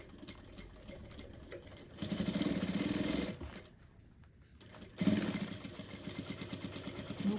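Sewing machine stitching a bag seam with backstitching, a rapid mechanical whirring in bursts that start and stop, fairly quiet and close, with short pauses between runs.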